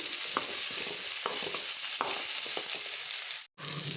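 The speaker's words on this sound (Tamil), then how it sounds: "எல்லாம் பொரிஞ்சதுக்கப்புறமா கட் பண்ணி வச்சுருக்க வெங்காயமும் கொஞ்சமாக கருவேப்பிலை சேர்த்துக்கோங்க. எல்லாத்தையும் நல்லா வதக்கிக்கோங்க." Onion and curry leaves sauté in hot oil with cumin and dried chili for a cucumber curd curry, a steady close sizzle with occasional stirring scrapes and soft ticks.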